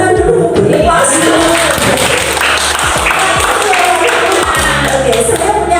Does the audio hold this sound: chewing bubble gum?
no